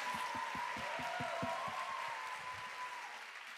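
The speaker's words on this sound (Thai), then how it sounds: "ปรบมือให้กับวิทยากรทุกท่านหน่อยค่ะ" Attendees at a worship conference in Bangkok applaud the speakers, a moderate, continuous round of clapping over a soft, regular low thumping beat that eases off in the final second.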